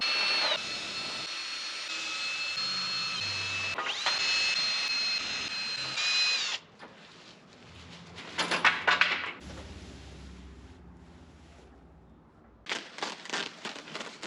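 A power tool whines loudly while cutting a hole in the floor of an old 4x4 covered wagon, running in long stretches with brief pauses, then a clattering burst as the cut piece comes free.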